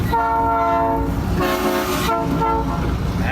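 A loud, blaring multi-tone train horn mounted on a 2019 GMC Duramax pickup sounds close by in two long blasts, the second starting right as the first ends.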